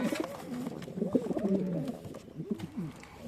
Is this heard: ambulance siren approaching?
no